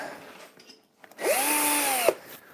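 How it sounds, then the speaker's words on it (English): Power drill whirring through small parts in one sustained burst of under a second, close and fairly loud, spinning up and stopping abruptly amid quiet. "basically just drilling through those."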